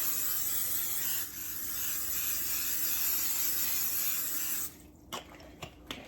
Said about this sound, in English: I've got some of this butter flavored spray. Then I'm going to spray it.